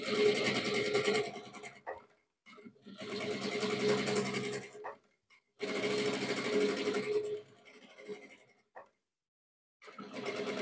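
A sewing machine stitches a fabric bag in short runs of rapid, buzzing clatter, three main bursts separated by quiet pauses and small handling clicks, fairly close and without speech.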